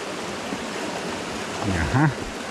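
Homer Brook, a stream in Vermont, flowing under a hiking-trail bridge: a steady, close rushing wash of water, with a brief voice rising over it near the end.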